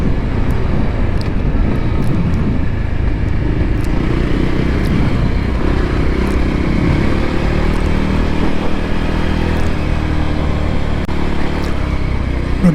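A Voge 300 Rally motorcycle with a Kawasaki engine fitted with a 15-tooth front sprocket runs steadily on a ride, a loud continuous engine drone mixed with rushing wind noise and no voices.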